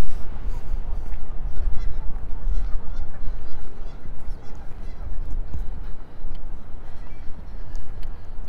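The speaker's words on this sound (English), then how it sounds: "Another pair of geese on the lake." A pair of geese on a lake in Regina in early spring honk through constant outdoor wind and walking noise, the calls faint and mixed into the broad rushing background.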